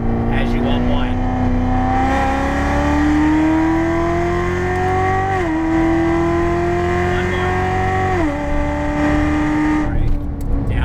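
Chevrolet Corvette C7 on a race track under steady throttle, its engine note climbing loud and continuous with two brief dips as gears change, while an instructor talks over it.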